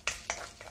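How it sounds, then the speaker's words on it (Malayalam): Cardamom pods, about sixteen of them, clatter and scrape in a hot dry pan while being stirred for homemade garam masala powder, three short close bursts of rattling and scraping within under a second, no talk. "ഇനി നമുക്കിതിലേക്ക് ഏലക്ക ചേർക്കാം."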